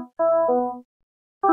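A synth preset played in reverse gives a swelling, reversed Rhodes-like electric piano tone: two harmonic chords fade in and cut off abruptly, with a short gap between them and another chord beginning at the end.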